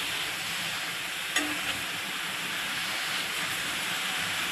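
Garlic and green chillies sizzle steadily in hot oil on a raised gas flame while being stirred, with a soft scrape or two of the spoon, a constant close hiss and no talk.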